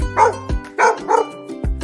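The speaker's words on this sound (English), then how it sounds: "Yes, this is a dog." A dog barks several times in an uneven rhythm of loud, close bow-wows, the barks separated by short gaps, with no talk over them.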